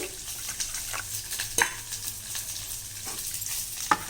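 A spoon stirs ground tomato, onion, green chili and ginger paste thinned with water, giving close, steady wet scraping and swishing strokes over a soft sizzling background.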